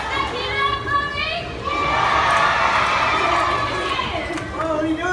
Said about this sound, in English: you guys will be cheering for Tyler in the blue City Ute